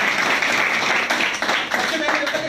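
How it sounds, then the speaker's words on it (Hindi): An audience at a network-marketing training session breaks into applause, a brief burst of clapping mixed with voices and crowd noise in a large room. "वेरी गुड, एक बार जोरदार ताली।"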